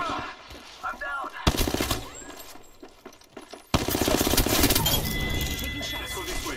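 Gunfire in the Apex Legends video game: loud bursts of rapid shots, close by, that stop and start, with busy game noise between the volleys.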